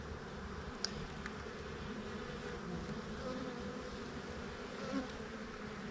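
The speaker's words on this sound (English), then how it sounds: "Lots of nice bees on there." Honeybees drone around an open frame lifted from a hive in a beeyard, a dense, continuous buzz with occasional closer passes rising briefly above the swarm.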